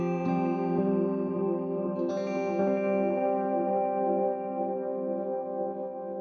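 A guitar played through a Morley delay pedal rings out sustained chords whose dark, warbling repeats trail off behind each strum, steady and moderately quiet.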